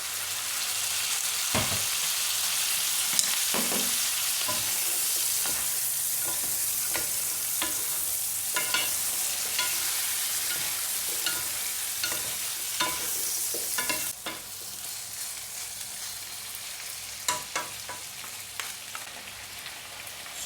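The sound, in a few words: chicken frying and being stirred in a pan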